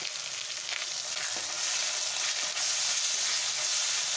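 Grated tomato frying over a low gas flame for a cauliflower and egg curry makes a constant, close sizzle that holds steady and grows a bit fuller in the second half, with no voices.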